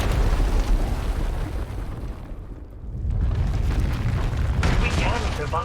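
A massive power eruption tears through an asylum in Star Wars: The Old Republic, a loud rumbling roar that dips briefly midway before surging back.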